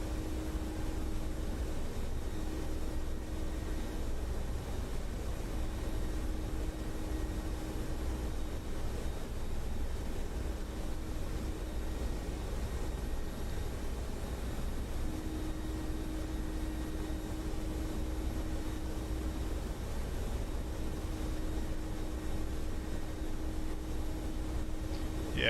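A Mi-24P Hind attack helicopter in the flight simulator DCS drones on in a steady, even engine hum with a faint tonal whine throughout, fairly quiet and without speech.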